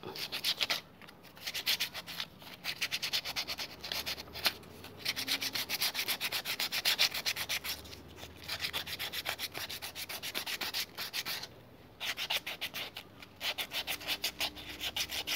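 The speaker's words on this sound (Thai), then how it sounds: "นี่เองแล้วเราก็แค่ขูดแล้วก็แต่ง" Continuous scraping and rasping as a coconut shell is trimmed and shaped into a bonsai pot, with steady repeated strokes and only brief pauses, close and clear, with no talking.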